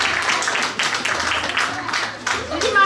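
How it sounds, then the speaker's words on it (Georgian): Applause and scattered clapping at a kindergarten New Year celebration, uneven bursts of hands mixed with voices chattering nearby and a brief tonal sound near the end. "აპლოდისმენტები"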